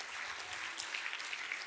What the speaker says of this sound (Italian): Quindi un applauso soprattutto alle donne in sala.